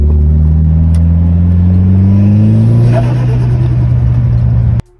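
A turbocharged car fitted with a new aftermarket intake revs loudly up close, its engine tone climbing steadily for several seconds before cutting off abruptly near the end.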